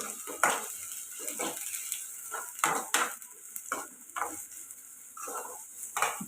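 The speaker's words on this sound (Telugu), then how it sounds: "అలాగే కొద్దిగా కరివేపాకు ఇది ఫ్రై చేసుకోవాలి" Curry leaves fry in a pan for a chicken fry, giving a steady, close sizzle under a series of rhythmic spoon scrapes and stirring strokes.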